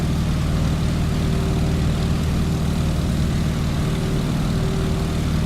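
Stearman biplane propeller engine held at full RPM in a Microsoft Flight simulation, a steady loud droning hum with a constant low throb and no pauses.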